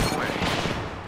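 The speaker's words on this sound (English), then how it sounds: "That's a new team shooting." Enemy team gunfire in a battle royale video game, a dense burst of rapid shots crackling loudly through the whole moment, with no pause.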